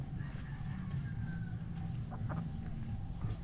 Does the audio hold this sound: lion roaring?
no